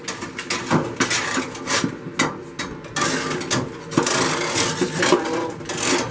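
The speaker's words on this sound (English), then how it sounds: "Just going to use ice scraper." Ice scraper knocking and scraping at frost inside an RV freezer, irregular clattering scrapes and taps heard up close, with a few brief words spoken.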